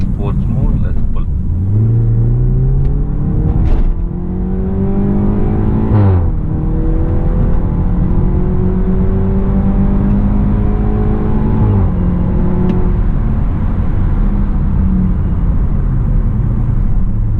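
A BMW F30 320i LCI in Sport Plus mode revs hard through rising gear pulls, pitch climbing then dropping at each shift, loud and close throughout with a steady rumbling drone.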